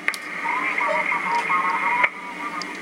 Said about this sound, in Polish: w tej chwili szumów jest tyle, chyba że masę odepnę.